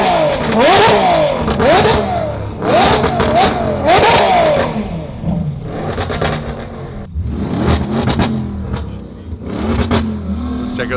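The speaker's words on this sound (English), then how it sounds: "We're having a rev off. Family sedan versus supercar." Engines rev in a rev-off between a family sedan and a supercar at an airstrip drag event, with repeated sharp rising-and-falling blips, loud and close, under people talking.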